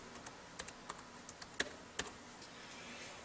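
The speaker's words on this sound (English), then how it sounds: "I'm going to type in happy then Thanksgiving" Quiet, close typing on a computer keyboard, with sparse, uneven key clicks and a couple of louder taps, followed by a short quiet pause at the end.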